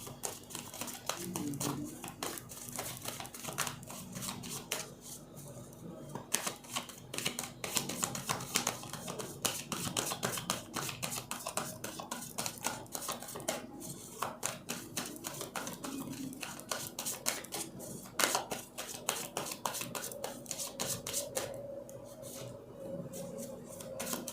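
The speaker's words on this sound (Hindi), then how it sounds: "ओके, कुछ और कार्ड्स निकालूंगी।" Reading cards being drawn and shuffled during a candle wax reading, heard as a quiet, continuous run of rapid papery flicks and taps close by.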